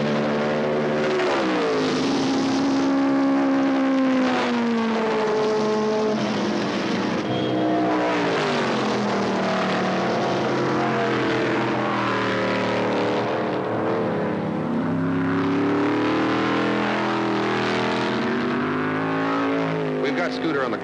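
Formula A race cars racing on a track, with harmonic engine whines rising and falling as they pass and accelerate, steady and loud throughout beneath continuous commentary.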